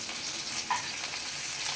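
Smashed katla fish fries slowly in a pan over a low flame, giving a continuous soft sizzle and crackle with no voices.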